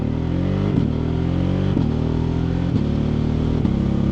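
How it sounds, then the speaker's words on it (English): A BMW F 800 GS motorcycle accelerates hard, its engine note climbing in pitch and then dropping sharply at each quick-shifter gear change, about once a second, close and loud. "Let's just do a quick, maybe 3/4 throttle, and let's try this quick shifter."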